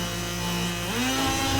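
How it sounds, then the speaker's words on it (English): An oscillating multi-tool saw blade cuts wood between two drilled holes, giving a loud, steady, close buzzing drone that drops in pitch as the blade bites deeper. "Then I used the multi-tool saw blade to cut between one hole and the other."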